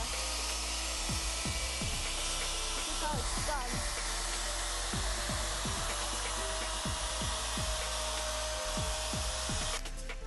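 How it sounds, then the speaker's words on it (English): Steady high-pitched machine whine of a grooving machine cutting grooves in solar lamp boxes throughout, with repeated low thumps and clatter beneath, fairly close, no talk. "we use this machine to groove"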